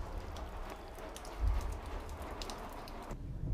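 Steady rain falls outdoors around a Range Rover being worked on, a continuous close hiss of drops with a brief low thump partway through and no voices.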